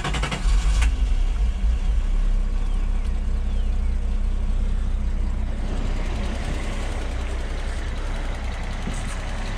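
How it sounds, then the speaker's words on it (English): Steady close-up idle of a Datsun car engine just after a slow start, a continuous low rumble that holds even and smooth throughout. "Seems to be idling a lot better now."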